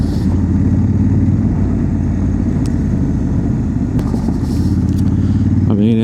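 A 2025 Honda Africa Twin DCT motorcycle rides over gravel, its steady engine drone and low rumble constant throughout, mixed with road and wind noise and no talking.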